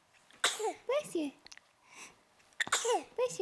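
A seven-week-old baby sneezes twice in quick succession, small sharp bursts close by, with an adult's soft voice speaking between them.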